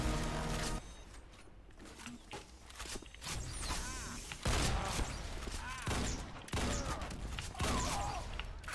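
Gunfire in the Roblox game Typical Colors 2 comes in several sharp bursts and thumps between quieter stretches of footsteps and game sounds, loud and close.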